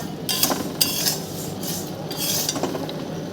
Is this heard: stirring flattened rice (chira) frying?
yes